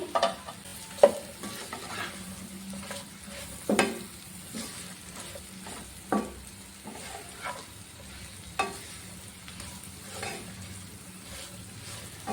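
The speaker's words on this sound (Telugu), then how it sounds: "ఇందులోనే మనం వేయించి పెట్టుకున్న గోబీ ముక్కలు కూడా వేసుకోవాలి" Fried cauliflower (gobi) pieces are stirred into fried rice in a pan, with a low steady sizzle and occasional clinks of a spatula against the pan, close up and with no talking.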